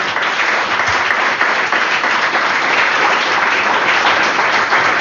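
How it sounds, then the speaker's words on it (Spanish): A church congregation bursts into sustained applause during a sermon, a dense, loud wash of many hands clapping at once that continues without a pause throughout. "Un aplauso al Rey."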